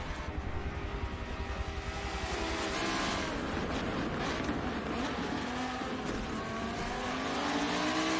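Several GT race cars battle side by side in a simulated championship race at Silverstone, their engines droning loudly and continuously with shifting pitch as they accelerate together, with no talk over them.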